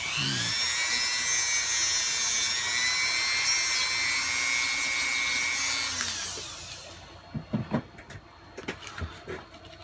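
A Dremel rotary tool whines loudly up close as it cuts and flattens model railway rails, shifting pitch with load before stopping, followed by a few faint taps and handling knocks.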